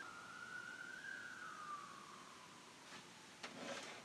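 A distant siren wails, its pitch slowly sliding and fading, faint and steady in the background with no one speaking.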